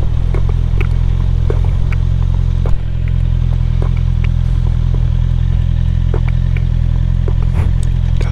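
Motorcycle engine idling steadily and close during a parking stop in Emden, East Frisia, a constant low rumble with a brief dip partway through and light clatter on top.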